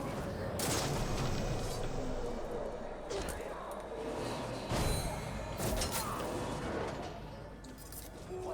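Gunfire in the video game Dune: House Harkonnen, with repeated sharp shots and impacts scattered across a busy game soundscape, heard under a voice talking.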